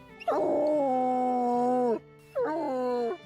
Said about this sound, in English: Some seconds passed, and the long howl was repeated